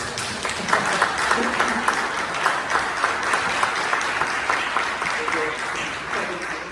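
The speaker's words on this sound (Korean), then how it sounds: "우리 장로님 권사님 박수로 먼저 참 축하하죠" A church congregation at a Sunday service applauds in celebration, with steady, dense clapping that carries on throughout, moderately loud, while a voice talks over it.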